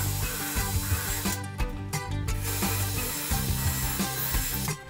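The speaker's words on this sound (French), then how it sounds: "On perce la structure de nos pieds en trois points" A drill bores into the wooden frame of furniture legs for a Scandinavian bedside table, making a close, continuous grinding whir with short pauses between bursts.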